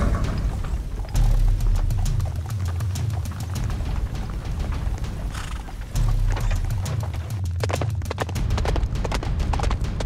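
Rapid horse hoofbeats in a Roblox game clatter in a steady galloping rhythm, loud and close, with a low rumble underneath that comes and goes.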